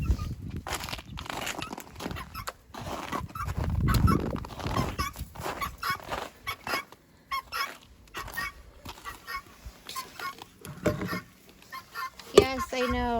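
Farm chickens and guinea fowl call in short, scattered bursts near the listener, with footsteps and a voice talking over them at times.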